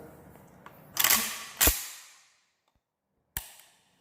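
An RPK rifle part being pushed down and locking into place during reassembly, heard as a few sharp metallic clicks and clacks close up, with a short pause before a final crisp snap.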